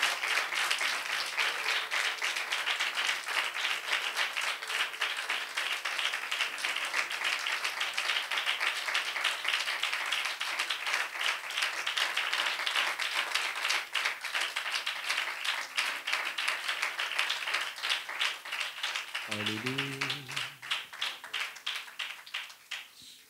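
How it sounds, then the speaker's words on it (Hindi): Church congregation clapping along in a service, a steady, dense rhythmic patter of many hands carrying on for about twenty seconds, with a brief sung or spoken voice entering near the end. "आइए ज़रा अपनी खुशी का इजहार करने के लिए और अपने खुदावंद को खुश करने के लिए ताली बजाएंगे"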